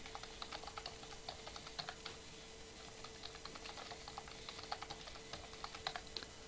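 A computer keyboard being typed on steadily while a password is changed, with light rapid key clicks over a faint constant hum, no voices.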